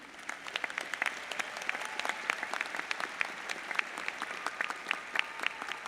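An audience applauding at a UNT spring university commencement, steady sustained clapping from many hands filling a large hall, moderately loud and even, without voices on top.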